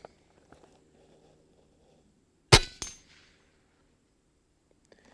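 A suppressed air rifle fired at full power gives one sharp, loud crack in an otherwise quiet setting, followed by a short metallic ring that dies out quickly.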